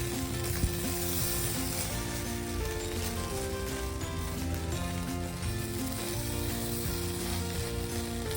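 Flattened rice and sugar being stirred in a new non-stick pan, giving a soft continuous sizzle and gentle scraping texture under faint background music, fairly quiet and even throughout.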